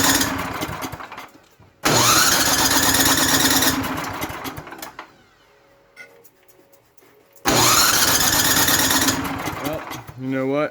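A Tecumseh snow blower engine cranking with the choke on, two loud bursts of pull-start cranking and sputtering separated by a short quiet gap, heard close up with a voice speaking in between.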